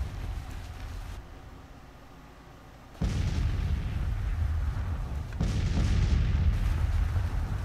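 Counter-battery artillery fire in a Grand Tactician: The Civil War battle at Grafton, West Virginia: a deep rumbling boom opens into sustained roaring cannon noise, with a second heavy blast joining a few seconds later, loud and without speech.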